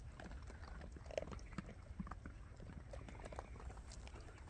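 Steady crunching and chewing of dry food by several stray dogs eating close by in a forest, with scattered small clicks over a constant low background rumble.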